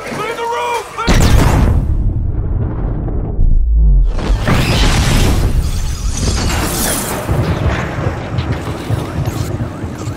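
A remote bomb explodes in Call of Duty: Advanced Warfare with a loud, close blast and a deep rumble, followed by a second heavy boom and a dense, noisy aftermath of debris and chaos.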